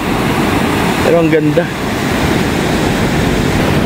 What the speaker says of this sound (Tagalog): grabe, oh, ang taas ng wave